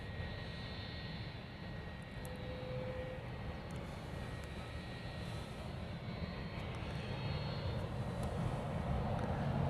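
A Boeing 717 jet airliner at the end of the runway at Honolulu airport, a steady broadband engine roar that swells slightly and sounds at a moderate distance, with no talk.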